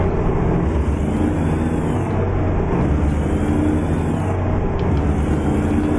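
A heavy truck engine in American Truck Simulator drones on in a steady, loud, continuous rumble while driving, with no talking over it.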